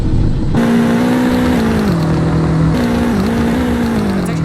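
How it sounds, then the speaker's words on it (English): BMW X5 M trim engine revved while parked, a steady loud drone that rises and dips in pitch through a couple of blips, close up with no talking. "Sounds pretty nice on the rev test."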